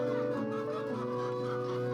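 Chickens on a poultry farm give a continuous mix of clucks and calls, steady and fairly close, with no one talking.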